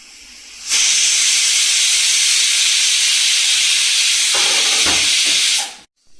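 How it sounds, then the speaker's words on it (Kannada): A loud, continuous steam hiss blasts from a pressure cooker whistle, cooking vegetables for akki rotti, for about five seconds, then cuts off abruptly, with faint clatter near the end. "ಇದು ಕುಕ್ಕರ್ ಎರಡು ವಿಷಲ್ ಕೂಗಿದೆ"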